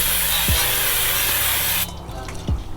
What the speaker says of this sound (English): Hit it with the brake cleaner.